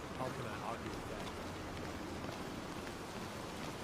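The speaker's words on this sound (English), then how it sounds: "Just what we needed, more fucking rain." Steady rainfall in the video game Skyrim hissing over everything, with a dense patter of drops and faint low rumbling underneath.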